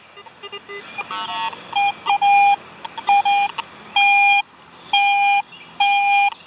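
A metal detector sweeps over a buried target in a vegetated spot, giving a series of sharp electronic tones: short chirps at first, then about six longer, loud, evenly spaced beeps rising and falling in pitch, with no voices.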